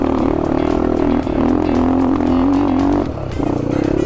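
A dirt bike labours along a badly broken off-road mountain track, its engine droning steadily with a wavering pitch that drops off near the end amid rattling and clatter.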